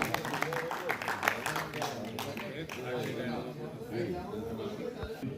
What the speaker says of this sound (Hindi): जोरदार तालियों से इस्तकबाल कीजिए जावेद आसी साहब।